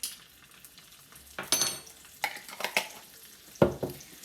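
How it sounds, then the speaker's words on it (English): Dried chilies and ginger frying in hot oil in a pan, with sizzling bursts and metal utensil scrapes and clinks as they are stirred, close up with no talking. "dried chilies that I'm going to throw straight into that oil."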